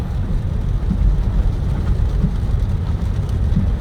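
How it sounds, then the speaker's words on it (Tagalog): Heavy rain pours steadily during a typhoon on the road to Santa Maria, Bulacan, a dense continuous low roar with no pauses and no voices. "sobrang lakas ng ulan sana lumabas na yung bagyo"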